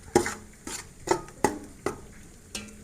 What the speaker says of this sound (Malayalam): ഈ തക്കാളി പേസ്റ്റ് ഇടാം നന്നായിട്ട് ഇങ്ങനെ മിക്സ് ചെയ്ത് കൊടുക്കാം